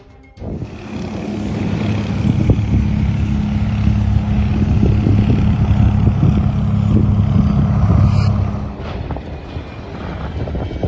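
A propeller airplane roars steadily as it comes in to land off balance, a loud, sustained engine drone with a low hum that swells and fades near the end, no voices.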